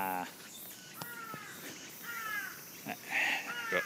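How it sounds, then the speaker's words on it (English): Crows caw on an outdoor walk near a waterfall in Fukuoka, Japan, with several faint, distant harsh calls over steady outdoor background noise and some softer bird chirps. "I hear crows."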